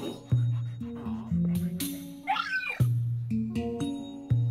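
Cat meowing in the video game Luigi's Mansion 3, several short in-game meows over tonal game music and effects, fairly loud and with no talk.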